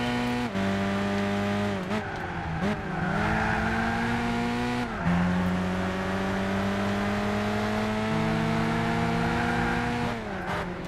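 A Renault Clio races around Silverstone in Gran Turismo 6, its engine droning loud and close as revs climb and drop sharply with each gear change, with brief tire squeal through the corners.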